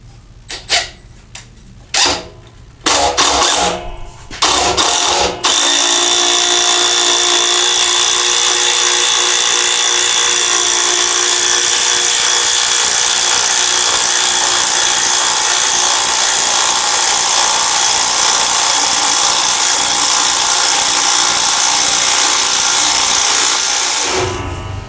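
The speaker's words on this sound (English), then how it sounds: "It drove the 6 inch lag without any pre-drilling all the way through, and that's 4 2x4s." A cordless Craftsman impact driver sinks a 6-inch lag screw without pre-drilling through four stacked 2x4s, starting with a few short bursts before a loud, continuous rattling whine that runs for about twenty seconds and then stops.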